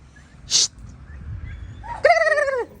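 Turkeys newly brought home as farm birds give a short high call and then a longer harmonic gobble-like cry, both fairly close and clear over quiet low background rumble.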